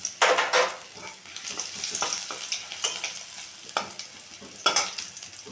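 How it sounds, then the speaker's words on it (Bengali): Bay leaf, dried red chilli, whole cumin and crushed garlic sizzle in hot oil as they are stirred, a close crackle punctuated by sharp clinks of utensil on pan. "এখন আমি এটা ফোড়ন দেব। দিলাম তেজপাতা, শুকনো লঙ্কা, দিলাম একটু গোটা জিরে ফোড়ন।"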